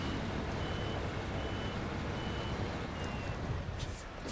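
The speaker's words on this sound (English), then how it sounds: "Now I'll just move the truck and trailer out of the way" Evenly spaced reversing beeps, four or five in a row, from a truck with a trailer in the SnowRunner video game, heard over a low, steady engine rumble with no talking.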